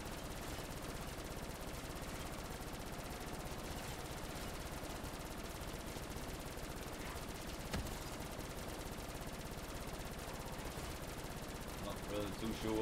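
Rapid gunfire in a Call of Duty Zombies custom map, a continuous dense stream of automatic shots layered with game noise at a steady, fairly quiet level throughout.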